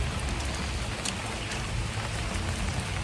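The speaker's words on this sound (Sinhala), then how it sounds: "දැන් වැස්සේ ඉන්නේ. හොඳට වැස්ස" Heavy rain pours down steadily, a dense, even hiss with no break and no voices, outdoors with a golden retriever.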